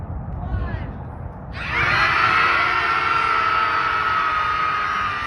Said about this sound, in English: There was a primal scream in retaliation in San Francisco.